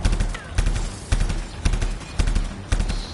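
A walking turret in Anthem fires rhythmic, repeated heavy shots roughly every half second, loud and close, in a steady pounding cadence.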